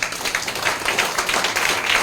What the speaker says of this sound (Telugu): ఇక్కడ గట్టిగా చప్పట్లు కొట్టాలి మీరు